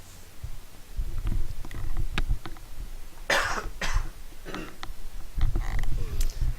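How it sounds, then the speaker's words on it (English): A game commentator coughs several times in short, rough bursts between stretches of low background murmur, during a Dota 2 esports match broadcast. "Sorry guys, the coughing, it's not ideal, I know"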